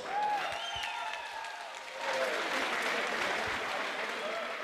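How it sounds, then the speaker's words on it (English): A crowd applauds at an amateur boxing show after a debut bout, steady dense clapping filling the hall with voices calling and cheering over it. "How about a round of applause?"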